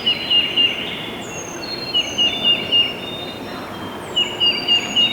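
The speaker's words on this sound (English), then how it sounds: "There's two birds gobbling up in front of us." Two bursts of distant wild turkey gobbling ring out in Kentucky mountains, each a quick rattling series, with a fainter, farther gobble answering in between over steady outdoor hiss.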